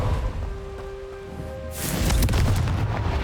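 A Confringo spell explosion in the Hogwarts Legacy video game erupts after a quiet humming stretch, a sudden loud fiery burst that rumbles and crackles through to the end.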